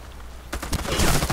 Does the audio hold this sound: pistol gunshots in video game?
yes